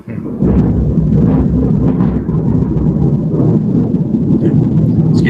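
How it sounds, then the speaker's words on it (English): Deep rumbling thunder rolls continuously beneath the roar of heavy rain outside a window, loud and close, with no break through the stretch. "I'm having thunder outside my window"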